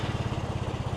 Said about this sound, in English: this is when the bike starts